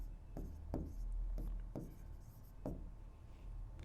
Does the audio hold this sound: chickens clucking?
no